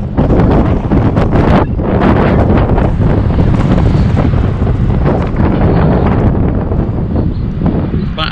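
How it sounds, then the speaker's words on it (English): Heavy wind buffeting a microphone while riding a Giant Defy Advanced road bike on a cold, breezy spring day in New Jersey, a loud continuous roar with gusty surges throughout. "Actually very cold and breezy"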